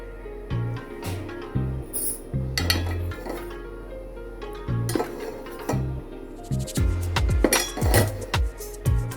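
Curd and besan being stirred in a bowl, with a spoon clinking and scraping against the sides in an irregular rhythm, close and moderately loud, with no talking.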